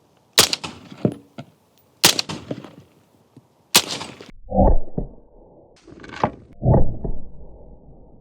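Several sharp AR-15 rifle shots fired at a concrete block, three loud cracks spaced about two seconds apart, followed by heavier thuds and clatter of breaking concrete, each with a short echoing tail.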